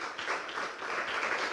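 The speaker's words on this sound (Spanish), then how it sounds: "Yo quiero que usted le dé un aplauso al Señor" A church congregation applauds for the Lord, a dense, continuous wash of many hands clapping together at moderate volume, steady throughout with no pause.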